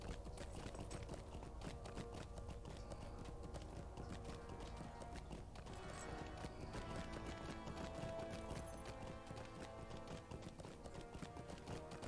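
Horse hooves clip-clopping in the Lord of the Rings Online video game, a steady quick run of faint, evenly paced hoofbeats over a busy game soundscape with no talk.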